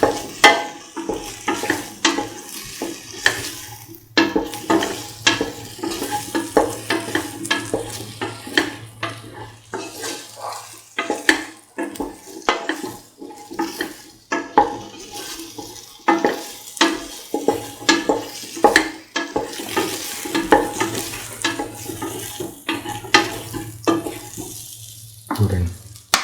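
Garlic potato rice stirred and fried in a pan: steady sizzling under repeated scraping and clinking of a utensil against the pan, continuous and close throughout.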